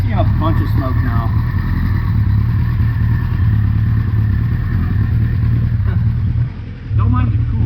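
A Kawasaki Concours motorcycle engine idles while warming up after reassembly, with coolant leaking and smoke coming off it, a loud, steady low rumble close by that dips briefly near the end, with a little background clatter.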